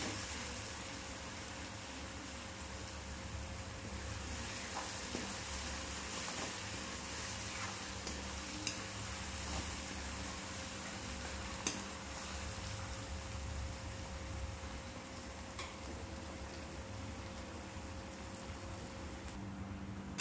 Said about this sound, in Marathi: स्लो गॅसवर असं छान टॅमॅटो असं शिजला आहे असं करायचं स्लो गॅसवर